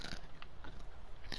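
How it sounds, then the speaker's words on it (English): Someone bites into a hot Cheeto, giving a few quiet, close crisp crunches spaced irregularly over a second or so, with no talking. "I'm gonna eat a hot Cheeto."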